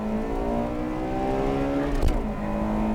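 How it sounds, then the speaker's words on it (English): Two Honda Integra Type R cars, 1996 and 1998 models, engines droning loudly at high revs during a quarter-mile drag race, with a brief whooshing swell midway as one surges past. "A quarter-mile race between the 96 and 98 models."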